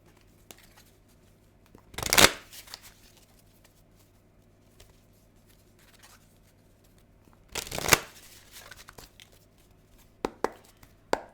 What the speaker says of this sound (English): So I'm just going to shuffle this deck a few times just to get some new energy in here